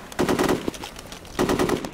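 Automatic gunfire from the military tactics video game Full Spectrum Warrior comes as two loud, rapid bursts, each about half a second long, with a short gap between them.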